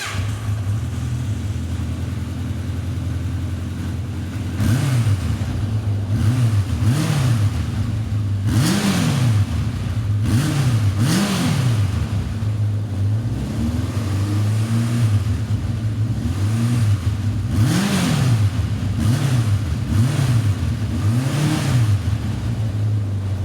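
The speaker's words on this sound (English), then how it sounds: "here's a quick shot of the exhaust note" Exhaust note of a 1980s Honda CB750F Super Sport with four-into-two dual chrome pipes, idling steadily and blipped up in repeated sharp revs that fall back to idle, heard close with no talking.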